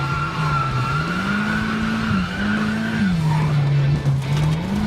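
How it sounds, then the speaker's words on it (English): A drift car slides around track corners with its rear wheels locked by a hydraulic handbrake. Steady loud engine roar and tyre squeal fill the whole stretch, the engine pitch rising and dipping, with no talk. "Drift cars have a hydraulic handbrake designed to lock the back wheels to enable the vehicle to slide around"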